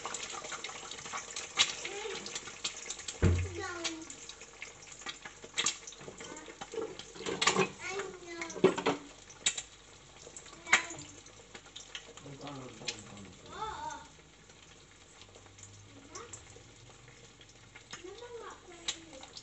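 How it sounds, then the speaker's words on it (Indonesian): Eggs frying in a pan for a green-chili egg stew, a steady crackling sizzle with scattered clatter throughout while a person talks over it. "pertama-tama kita goreng dulu telurnya ya"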